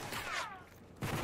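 Video game gunfire during a military shooter match, a brief rattling burst of shots at moderate distance that cuts out and then resumes.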